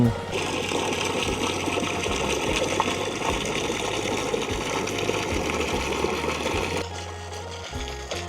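A new water pump drawing groundwater into a fish pond runs with a constant mechanical hum and strong rushing, gushing water, its tone easing slightly toward the end.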